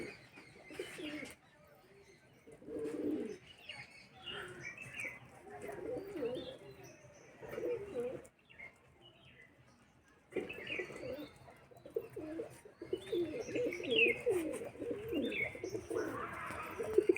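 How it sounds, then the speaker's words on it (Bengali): Domestic pigeons in a loft on a home rooftop give low, soft cooing in repeated bursts, with faint chirps and some background noise between calls. "এই সাইডে আমাদের পায়রাগুলো আছে"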